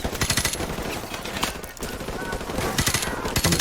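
Sustained gunfire in Call of Duty Modern Warfare Remastered: rapid, dense automatic bursts and overlapping shots crackling continuously at close range, with a brief lull midway.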